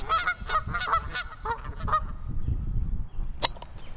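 Geese honking repeatedly in a loose, uneven series, fairly loud and near at first, then fading behind low background rumble, with one last sharp honk near the end.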